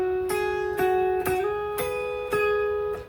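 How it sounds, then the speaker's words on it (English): An electric guitar melody is played alone and clearly, with distinct picked notes roughly every half second, sliding pitch changes and sustained held notes ringing between attacks. "Really cool guitar melody that happens here."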